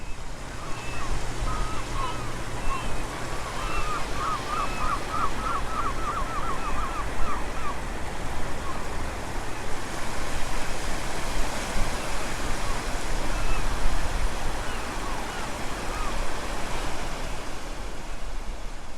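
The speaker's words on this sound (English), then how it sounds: "You can hear the waves." Sea waves off Tel Aviv wash in a steady, broad roar of surf. A few faint chirps rise above the surf early on, and the sound continues unbroken at a moderate level.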